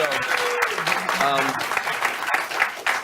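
A television studio audience gives a round of applause, sustained and fairly close, with voices talking over the clapping.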